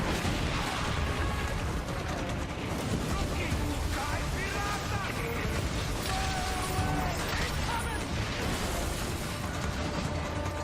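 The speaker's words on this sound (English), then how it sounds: "The Commodore turns his cannons on you. You brace for fire, absorbing the first blow." Naval cannon fire from warships in a Ubisoft game trailer, a dense, continuous roar of booming shots and mechanical clatter that stays loud throughout, with voices woven under the din.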